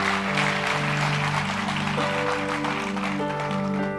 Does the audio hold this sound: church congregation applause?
yes